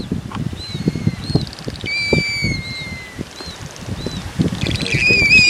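Blue-footed booby wings flapping on the Galapagos, soft repeated flutters and rustles close by, with scattered bird calls and chirps throughout and a brighter squawk near the end.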